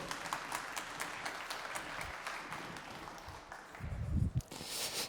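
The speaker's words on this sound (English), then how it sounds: "let's give a big warm applause and welcome to Christian and Ben" Conference audience applause welcoming two presenters at a business event, a moderate spread of clapping hands from a room of listeners, fairly distant and soft, with a brief thump of handling noise near the end.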